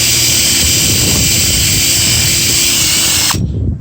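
A power drill bores a small divot into a wooden bench, running as a loud, steady whine for over three seconds before cutting off abruptly near the end.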